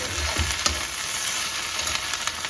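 Sliced green chillies hit a potato fry in a hot pan, giving a steady close sizzle with light stirring scrapes and small pops and no voices.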